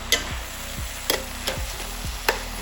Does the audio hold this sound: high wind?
no